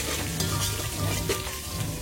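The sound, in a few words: garlic and ginger sizzling in hot oil for tempering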